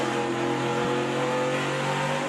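A race car powers out of a corner at Lucas Oil Raceway during an SRX heat, its engine holding a loud, steady roar throughout the short stretch with no talk over it.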